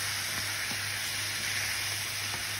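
Chopped tomatoes stirred into a vegetable curry that sizzles steadily in the pan, a constant close hiss with a few soft, faint stirring knocks.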